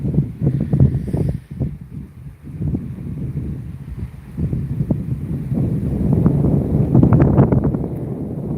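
Gusty wind rumbles and buffets the microphone continuously at the construction site of the fifth Thai-Lao Friendship Bridge between Bueng Kan and Bolikhamxay, loud and close throughout.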